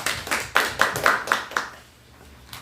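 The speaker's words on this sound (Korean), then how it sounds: "주님께 영광의 박수 올려드립니다" A church congregation claps in a brisk burst of about seven sharp, loud claps during a Sunday worship service, then fades out before one last clap.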